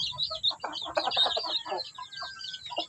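Chickens clucking close by, with a busy run of short, rhythmic clucks and calls and thin chirps mixed in from a surviving chick or other birds, continuing through the whole span.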